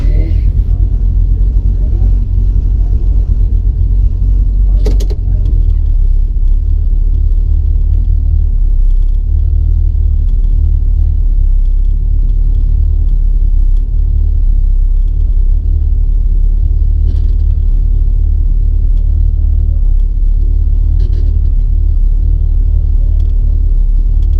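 Drag racing cars on an unprepped eighth-mile strip at Melbourne, including a Chevy Chevelle, make a loud, constant engine rumble that fills the whole stretch. A sharp bang sounds early on.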